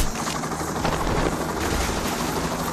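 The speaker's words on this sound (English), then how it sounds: "Get to the chopper." Helicopter in the video game Payday: The Heist, a dense, loud, continuous rotor roar that fills the whole moment without letup.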